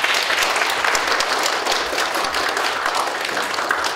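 Audience applause fills a university graduate school entrance ceremony hall, steady dense clapping from a large crowd that holds evenly throughout without talk.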